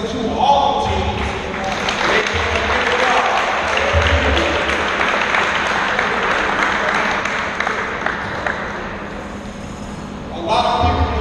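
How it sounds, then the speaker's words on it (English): A crowd at a basketball game applauds loudly and continuously for about ten seconds, the clapping dense and even before a voice returns near the end. "I just want everybody to clap it up,"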